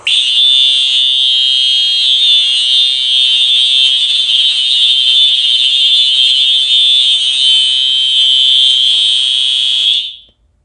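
A loud, steady high-pitched electronic alarm tone from a smoke detector on a Gamewell FCI fire alarm system under test blares continuously for about ten seconds, then cuts off abruptly.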